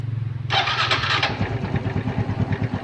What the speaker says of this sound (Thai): เดี๋ยวผมจะลองติดเครื่องให้ดูนะครับ